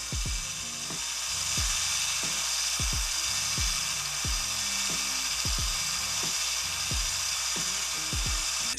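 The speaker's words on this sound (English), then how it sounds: "It's set to low speed. Let's go ahead and polish this out." A polishing machine spins on low speed against a Hot Wheels die-cast car, giving a steady mechanical whir broken by repeated ticking, ratchet-like clicks at an uneven rhythm. It runs close and moderately loud, with no talking.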